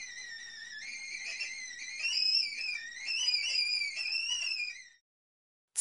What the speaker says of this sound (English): Whistle. Device that produces a high-pitched sound when air or steam is forced through it.